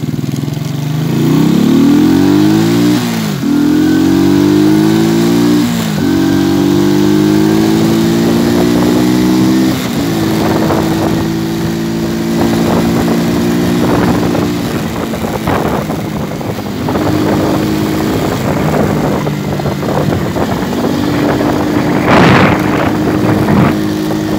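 A Shineray semi-automatic motorcycle engine, close and loud, revs up in repeated rising pulls, dropping in pitch at each gear change before settling into a steady drone with a few sharper blips.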